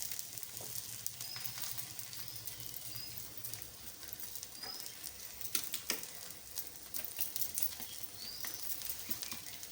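Hadga flower paratha sizzles in oil on a hot griddle: a soft, steady crackle and fizz, fairly faint, with scattered small pops and spits and no talk.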